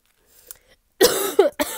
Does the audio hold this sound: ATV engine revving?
no